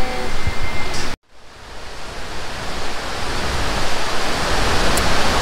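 A waterfall at Lake Sebu roars with a loud, steady rush of falling water. The sound cuts out briefly after about a second, then builds back to a full, continuous wash.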